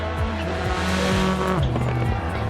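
Citroen C4 rally car in a racing video game, engine revving up and down through gear changes with rising and falling pitch, close and loud, with tire squeal mixed in.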